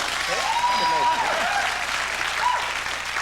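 Studio audience applause on a television talk show: dense, steady clapping that fills the whole stretch at even loudness, with a voice briefly audible over it.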